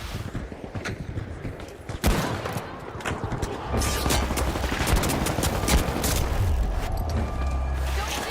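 Heavy gunfire from the slowest, heaviest weapon in a first-person shooter video game, dense bursts and loud booms that intensify after a sharp blast midway and continue in rapid overlapping volleys under a speaking voice.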